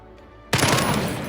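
Video game gunfire bursts in suddenly with a loud, dense rattle of rapid shots that continues to the end.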